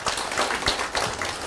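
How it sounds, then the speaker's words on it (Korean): Audience clapping at a New Year town hall meeting with citizens in Haemi-myeon, a brief burst of moderately loud applause from a seated crowd. "또 고맙다고 또 박수 한번 쳐주시고"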